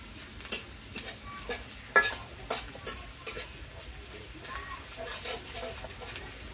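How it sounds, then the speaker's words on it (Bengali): Onions fry in a pan with a soft sizzle, punctuated by several sharp scraping stirs and knocks of a utensil at irregular intervals; no talking. "এই পেঁয়াজটা ভালো করে ভাইজা রইল মা"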